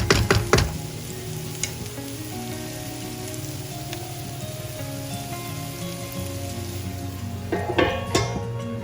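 Onions cooking covered in a pan for a tandoori chicken dal curry give off a soft, steady sizzle under a low hum, with a few lid or utensil clicks at the start and end.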